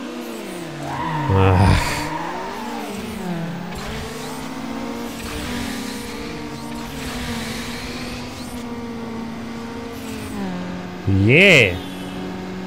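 A Dodge races through the streets in NFS Underground with a steady engine drone that rises and falls through gear shifts, plus a couple of sharp tire squeals, while a player talks over it.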